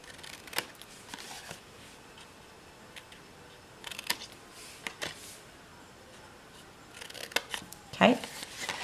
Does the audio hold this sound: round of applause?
no